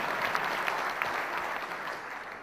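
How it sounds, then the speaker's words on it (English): An audience at a Don Bosco school conclave claps steadily in a dense, continuous burst of applause that fades slightly toward the end. "You can clap for that."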